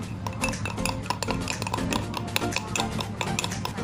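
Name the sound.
mixture being stirred with spoon until thick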